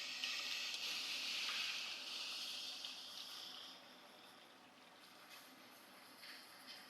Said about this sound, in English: Just going to fill this about 3/4 of the way with nice hot water.